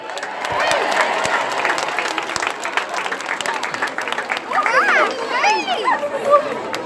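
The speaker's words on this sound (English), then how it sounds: "A big round of applause for him." An audience applauds at a presentation ceremony, with steady clapping mixed with crowd chatter and children's voices.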